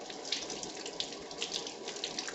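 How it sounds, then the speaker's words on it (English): Tap water running steadily into a sink while a lemon is rinsed under it, a continuous close splashing hiss with small bright spatters, no voices. "I'm just going to use the tap water"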